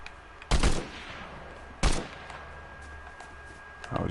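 Gunfire in the Fortnite battle royale game: two sharp, loud shots about a second and a half apart, each with a brief ringing tail, then a third burst starting at the very end.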